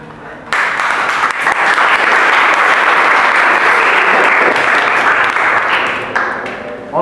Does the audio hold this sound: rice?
no